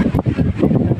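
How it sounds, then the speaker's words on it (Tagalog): Strong wind at a construction site buffets the microphone in loud, gusty low rumbles that swell and fade over a second, with no voices. "Ang lakas ng hangin ah."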